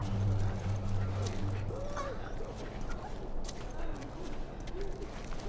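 Horse hooves clip-clop at a steady walking pace in The Last of Us, moderately close amid ambient outdoor game sounds, with a low hum early on and faint vocal sounds in the mix.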